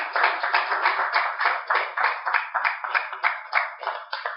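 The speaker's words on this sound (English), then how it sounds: "giving him a round of applause" Audience applause at the close of an academic lecture on authoritarian regimes and conflict in Chad, a steady burst of many hands clapping that fills the room for several seconds with no voices over it.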